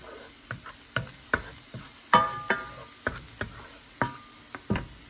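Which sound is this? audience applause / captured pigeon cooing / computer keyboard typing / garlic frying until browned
garlic frying until browned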